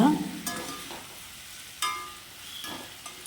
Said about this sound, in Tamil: இப்போ நம்ம அரைச்ச மசாலா விழுது சேர்த்துக்கலாம் சேர்த்துட்டு நல்லா வதக்கிக்கலாங்க